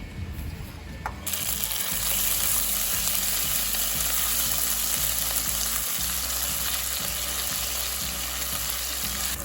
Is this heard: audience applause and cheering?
no